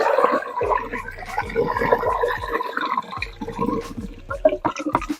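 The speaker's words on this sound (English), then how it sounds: "That's the fertilizer coming out." Liquid fertilizer gurgling and splashing out of the outlet of a small home biogas digester, a continuous watery burble with irregular glugs and drips, fairly close.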